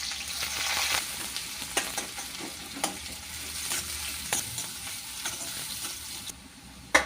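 Cardamom, star anise, cinnamon, cloves and onions fry in oil for a dhaba-style mutton curry, giving a steady close sizzle broken by stirring scrapes and a few sharp clinks of a utensil against the pan.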